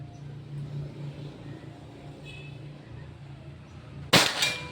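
A single sharp air rifle shot from a PCP Pajero Gun Gen 6 during a 50-metre accuracy test rings out near the end after a quiet low hum of background, followed by a brief metallic ringing tail.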